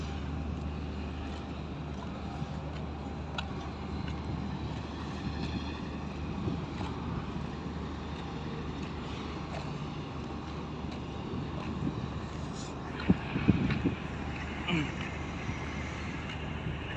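Busy Tanjung Priok harbour with ships, including a navy warship, gives off a steady low rumble of engines and wind-blown ambient bustle, with a few brief knocks and clanks late on.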